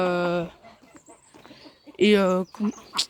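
Chickens clucking and calling at a small poultry breeding farm, loud close squawks and clucks in bursts with quieter chatter between, ending in a higher squeal.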